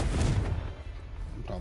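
An explosive Confringo spell goes off in Hogwarts Legacy, a booming blast with a rumbling low burst at the start that fades out over a second, followed by a faint crackle.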